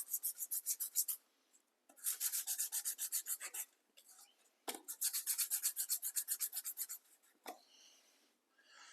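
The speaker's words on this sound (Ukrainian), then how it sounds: "Латунь, як е, правило, м'який метал. Він піддається шліфуванню" Rapid rhythmic rasping strokes of sanding on a brass knife bolster, in several bursts separated by short pauses, close and fairly quiet.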